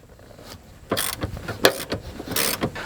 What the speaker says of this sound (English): take your 18mm socket and remove the 2 front seat bracket bolts.